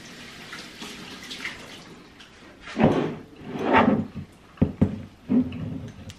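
French thyme leaves are washed under a running tap, giving splashing water in a few uneven surges and a couple of knocks, close by and moderate in level.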